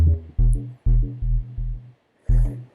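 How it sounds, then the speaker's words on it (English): Deep synth bass ducked by a kick drum through sidechain compression in Ableton, pulsing in short, evenly spaced loud bursts that drop away between hits, with a brief gap before a final pulse. "every time the kick happens, the bass will duck down to give the space"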